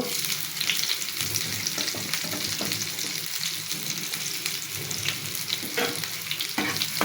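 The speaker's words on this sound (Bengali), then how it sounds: "তেলটা গরম হয়ে গেলে দিয়ে দিচ্ছি পেঁয়াজ কুচি" Chopped onions frying in hot oil in a wok give a loud, steady sizzle with crackling pops and occasional stirring scrapes. Nobody talks over it.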